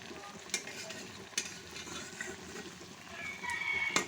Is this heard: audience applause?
no